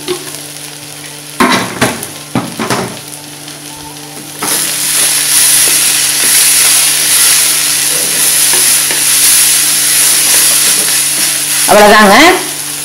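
Radish sautés in a pan with a steady, loud sizzle and repeated stirring scrapes of a spoon, preceded by a few clanks and a brief spoken word, all heard close up.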